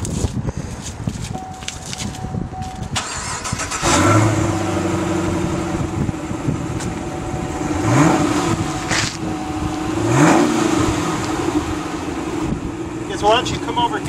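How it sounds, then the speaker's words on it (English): A 2015 Chevrolet Camaro with an all-aluminum LS3 V8 starts up close by after a few quiet seconds. It settles into a steady, deep idle rumble, broken by two sharp rising revs that fall back to idle. "You're gonna love the sound of the LS3 all aluminum engine."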